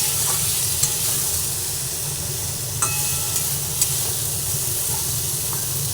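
Foli fish and eggplant being stirred together as they fry in a pan, a loud steady sizzle with a few sharp scrapes and knocks of the spoon at close range.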